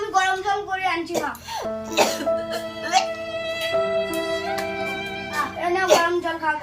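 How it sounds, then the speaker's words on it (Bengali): Someone coughs in a few short, harsh bursts in a home comedy sketch, mixed with talking voices and a steady background tune. "গরম জল খাও, তাহলে ভালো হবে কাশি।"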